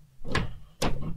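A wooden door in a house creaks twice in quick succession, two short close groaning squeaks over a low hum.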